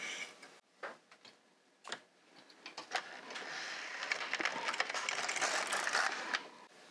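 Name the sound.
LK 150 knitting machine carriage knitting a row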